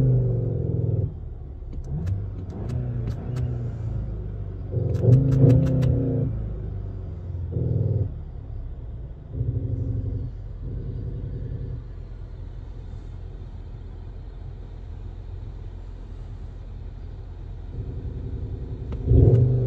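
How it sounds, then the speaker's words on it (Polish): Skoda Octavia RS 2.0 TSI 245 with DSG and an artificial cabin sound synthesizer, heard from inside as a deep rumbling engine note that swells and fades in repeated bursts of revving over a steady low drone. "w kabinie jest syntezator dźwięków, który jest fatalny"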